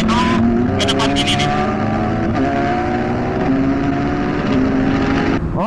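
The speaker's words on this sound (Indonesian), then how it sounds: "Ini suara 4 silinder." A four-cylinder motorcycle engine drones steadily while riding, a loud continuous hum with rising and falling harmonic tones, mixed with wind and people talking over it.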